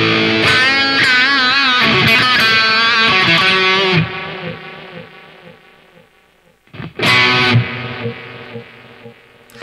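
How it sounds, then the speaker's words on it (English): A guitar played through the ring echo effect of a Valeton GP-200LT multi-effect unit, loud buzzing distorted chords ringing out and fading into a fizzy, crunchy tail before another loud burst. "if we choose a ring echo,"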